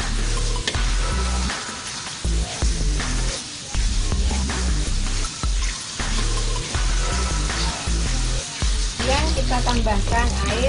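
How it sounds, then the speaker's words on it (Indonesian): Ground spice paste sautéing in a pan for an Indonesian coconut-milk kerang kaco dish, a steady busy sizzle with clattering stirring strokes throughout, close and fairly loud, no talking. "Kita tumis bumbu uleknya ya."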